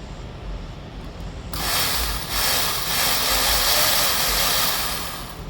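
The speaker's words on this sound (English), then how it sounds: "Motor's working. Sound like it got good power." A Magnafuel fuel pump motor, fresh from a seal replacement, switches on after a quiet second and a half and runs with a loud, steady broadband whir that holds to the end, close up and alone.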